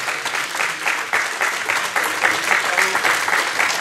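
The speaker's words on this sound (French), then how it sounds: "On peut l'applaudir déjà pour ce qu'il a accompli" Sustained audience applause at an outdoor modern singing contest at a caravan festival, many hands clapping in a dense, even roar with a few louder bursts and faint voices mixed in.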